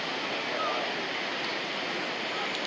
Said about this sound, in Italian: Queste sono le cascate piccole